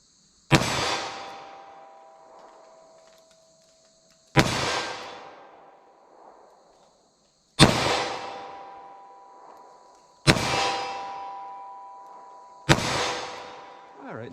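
Five slow, evenly spaced .38 Special shots from a snub nose revolver at 12 yards, each a sharp loud crack followed by a ringing clang off a steel target that decays over a couple of seconds.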